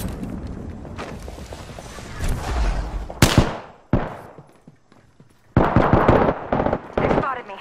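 Gunfire in the Apex Legends battle royale game: bursts of rapid automatic shots and sharp single cracks, loud and close, broken by short pauses, with a voice talking over the firefight.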